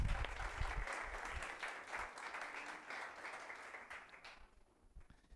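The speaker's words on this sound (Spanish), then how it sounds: "denle un aplauso, pero con ganas." Church congregation applauding enthusiastically during a service, a dense, steady wash of many hands clapping that carries on for several seconds before thinning out and fading near the end.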